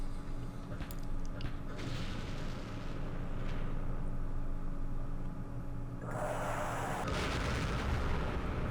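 Rocket artillery fire in a war strategy game set in the Middle East: a steady, continuous low rumble of barrages, with a brighter burst of blasts near the end, heard alone with no talking.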